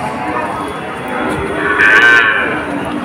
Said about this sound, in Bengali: আজকে প্রচুর পরিমাণ গরু এখানে আসছে দর্শক